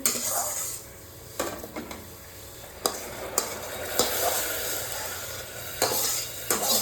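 Moong dal being dry-fried in a pan hisses with a steady low sizzle, while a spoon scrapes and clinks against the metal in irregular strokes, close and alone with no voices.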